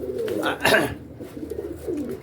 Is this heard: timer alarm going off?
no